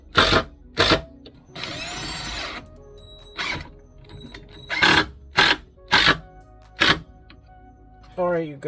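Power drill driving screws into a Goose Gear plate during a Lexus GX460 third-row delete, in repeated short loud whirring bursts with one longer run, close by, with a voice speaking near the end.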